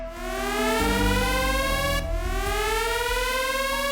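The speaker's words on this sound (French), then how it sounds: "Une sirène stridente déchire l'air." A shrill alarm siren wails inside a Soviet bunker, loud and sustained, with a steady rising tone over a low drone and no pauses.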